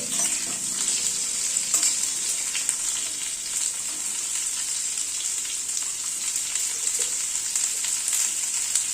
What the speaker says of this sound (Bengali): কুমড়োটা দিয়ে কুমড়োটাকে একটুখানি ভেজে নিচ্ছি আগে